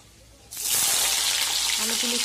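Potatoes drop into hot oil in a pan and burst into a loud, steady sizzle that fills the rest of the moment, with a brief voice murmuring underneath toward the end.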